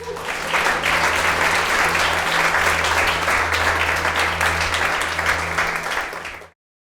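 A church congregation claps loudly together in sustained applause that swells quickly, holds for several seconds over a low hum, then cuts off abruptly.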